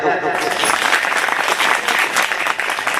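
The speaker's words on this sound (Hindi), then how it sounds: "जब देश के भविष्य के लिए तालियां बजा दो।" Audience applause at an outdoor village gathering in a pandal, dense steady clapping from a crowd lasting the whole stretch, loud and continuous without a clear break.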